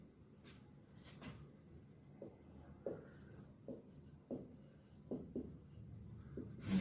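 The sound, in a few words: writing with a pen on paper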